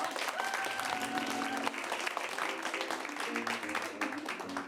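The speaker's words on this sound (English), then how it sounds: "A round of applause for all your players coming to the stage now." A comedy club audience gives sustained, fairly soft applause as improv players come onto the stage, steady dense clapping with a few voices and faint music tones mixed in.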